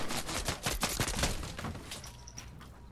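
Gunfire in the Fortnite video game, a rapid burst of cracking shots fired close by over the first half, then thinning into a few scattered reports and quieter game sounds.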